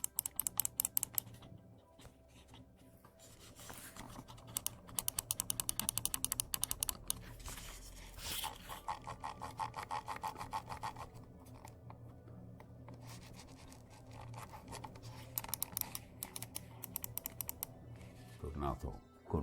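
Side buttons and the scroll wheel of a Logitech Pro X2 Superstrike gaming mouse click close up, with bursts of rapid ratcheting wheel ticks and crisp button presses in clustered runs separated by short pauses.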